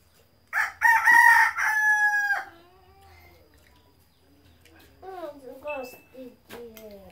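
A rooster crows loudly and close by in one long, wavering call at a family breakfast, followed by a voice talking.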